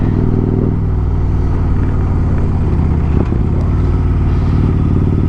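A motorcycle fitted with slip-on exhausts idles high and loud, its engine note steady and throbbing close by, with a small clatter partway through and no talking.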